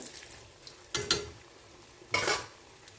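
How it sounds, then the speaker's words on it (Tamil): A snack deep-frying in hot oil sizzles softly while a utensil stirs it in two distinct scraping bursts, close up, with no talking. "எண்ணெய் கொஞ்சம் காஞ்சிடுச்சு அதனால் மறுபடியும் உடனே கிண்டி போட்டோங்க"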